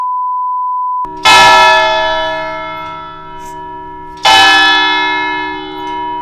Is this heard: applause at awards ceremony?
no